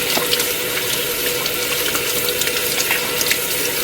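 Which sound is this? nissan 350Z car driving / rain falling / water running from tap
water running from tap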